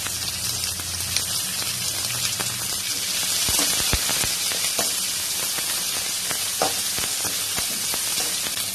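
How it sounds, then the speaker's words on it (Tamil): Green chillies sauté in a pan of oil for a snake gourd poriyal, giving a continuous crackling sizzle dotted with sharp pops and spits, close and fairly loud, with no speech. "நல்லா வதக்கிக்கோங்க. உங்க காரத்துக்கு ஏத்தாப்புல பச்சை மிளகாய் சேர்த்திக்குங்க."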